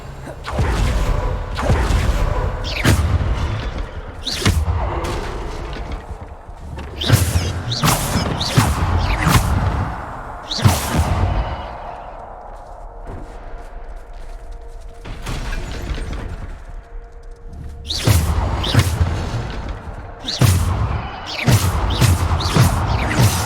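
Bombarda spell explosions in Hogwarts Legacy during a combat trial, with repeated loud booms and crashes in an irregular rhythm, mixed with whooshes and game effects.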